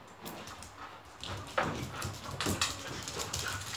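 Dogs whimper and shuffle nearby indoors, a few soft whines and thuds rising and falling over steady low room noise, with no talk.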